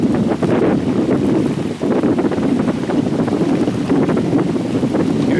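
Strong wind blows in straight off the water where boats are out, a loud, constant gusting roar pushing against the microphone, with faint water and wave wash underneath and no talking.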